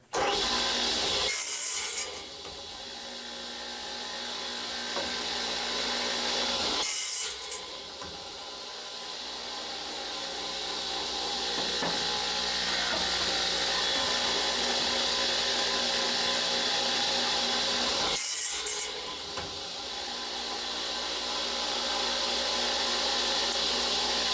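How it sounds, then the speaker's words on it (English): A saw cuts through a wooden board for a mini chest lid, with long, steady rasping strokes in a continuous run, pausing briefly a few times before each new cut, loud and close with no talking. "I'm going to start making my cuts from here."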